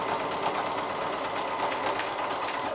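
A sewing machine stitches along the edges of a cushion inner, a continuous, even, close-up motor drone with a rapid mechanical patter running throughout.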